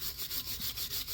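Surface rust is brushed off the brake caliper bracket of a Dodge Grand Caravan in a rapid, rhythmic back-and-forth scrubbing, loud and close, each stroke a harsh bristly rasp.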